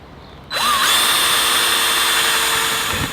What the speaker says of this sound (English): I'll drill my holes in the hardwood now,